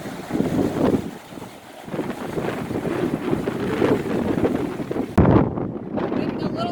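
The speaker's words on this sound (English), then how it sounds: "It's a lot windier up here too." Strong wind gusts buffet the microphone outdoors near Summit Lake in mountainous eastern Alaska, a continuous roaring rumble that swells and drops, with a louder burst near the end.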